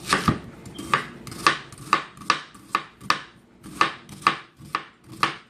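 A knife chops onion small on a cutting board, about a dozen crisp, close taps in an uneven, fairly quick rhythm with brief pauses between strokes and no talking.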